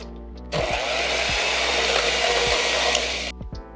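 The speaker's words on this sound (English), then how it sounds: "I'm gonna take a hand mixer and we are going to cream this all together until just combined." An electric hand mixer creams keto snickerdoodle cookie batter made with an egg, a steady loud motor whir starting after a half-second and running about three seconds before cutting off, with faint beater clicks against the bowl.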